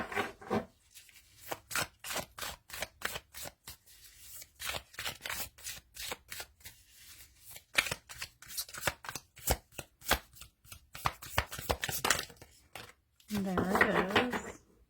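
A deck of tarot cards is shuffled by hand, with a long run of quick crisp card slaps and riffles up close and brief bits of talk between them.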